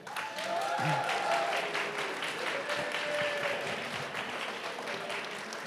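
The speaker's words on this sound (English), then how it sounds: "another huge round of applause to everyone who presented tonight" Audience applause for the presenters at a startup pitch fest, sustained crowd clapping with a few cheers and voices mixed in, steady and fairly loud throughout.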